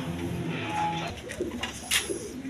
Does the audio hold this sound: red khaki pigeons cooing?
yes